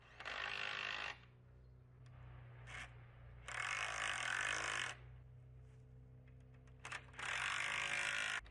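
A ratchet drives screws into the triangle struts of a geodesic dome, making three bursts of rapid clicking that are fairly close and loud, with short quiet gaps between them over a low steady hum.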